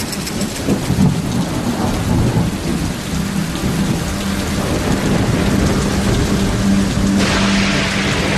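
A heavy thunderstorm in the African wild, with steady loud rain pounding the ground and deep rolling thunder rumbling throughout.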